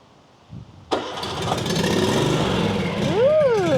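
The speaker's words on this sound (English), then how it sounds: "Okay, Jody, let's start this lovely machine up." A Toro Grandstand HDM 32 stand-on mower's small engine cranks and catches, then settles into a steady mid-pitched idle, briefly revving up toward the end; close and fairly loud, no talking.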